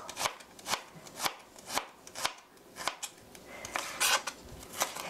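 A kitchen knife chops an onion laid flat on a cutting board in steady, crisp strokes, roughly two per second, close and clear with no talking.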